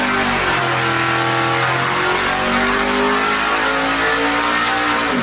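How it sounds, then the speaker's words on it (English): A Pontiac race car engine revs hard on a dyno at a racing shop, a loud continuous roar with rising and falling pitch sweeps, up close and alone. "We're going to dyno Project Pontiac."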